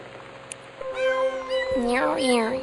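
A human voice imitates a cat, giving a rapid series of close, loud, pitched meows in repeated bursts, sliding up and down in tone, with no real animal present.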